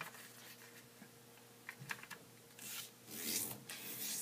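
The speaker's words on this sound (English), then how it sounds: "I'm going to start by just folding my paper in half both ways" Printed origami paper is folded in half both ways, giving quiet scattered taps and rubs followed by a louder rustling, creasing sweep near the end.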